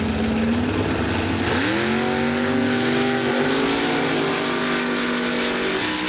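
Mud trucks racing in the MRA Pro Stock Class in Laporte, Indiana, engines roaring loud and continuous with a rising rev surge partway through, no voices.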